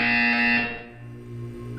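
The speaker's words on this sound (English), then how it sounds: "You will hear a buzzer." Buzzer in Portal 2, a loud, harsh electronic tone that sounds for about three quarters of a second, then drops away to a lower lingering hum.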